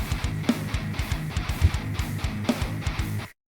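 A chugging rhythm guitar riff plays in tight, repetitive palm-muted pulses with steady accents roughly every half second, loud and alone, stopping abruptly at the end.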